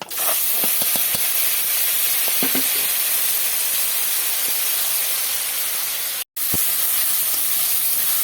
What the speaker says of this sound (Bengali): জিরেটা ভাজা হয়ে গেছে দিয়ে দেবো পেঁয়াজ রসুন বাটাটা